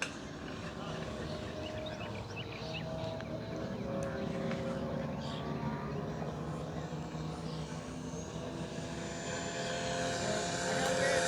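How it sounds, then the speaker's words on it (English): An E-Flite Cherokee 1.3m RC airplane makes a full throttle pass, its propeller motor a steady high whine that holds and swells slightly as it comes nearer, with faint background voices. "And another full throttle pass."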